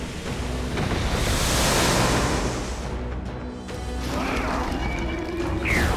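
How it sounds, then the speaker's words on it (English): Wind gusts roar steadily in Metaphor: ReFantazio on PlayStation 5 Pro, a loud, continuous rushing wash that swells and dips, with a brief whistling tone near the end. "It's getting windy!"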